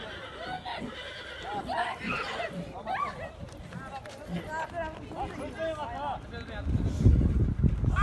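A horse neighs and whinnies outdoors amid people's talk and wind noise, with a louder low rumble building near the end. The horse had been stolen and was recovered by a retired police officer with an informant's help.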